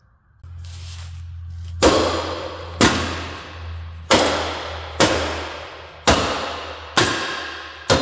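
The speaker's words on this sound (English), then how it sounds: "with a couple of good smacks this should actually slide out" Seven sharp, ringing hammer blows strike a bolt in the frame of a wrecked Cadillac ATS-V, spaced about a second apart and each decaying quickly over a low, steady electrical hum.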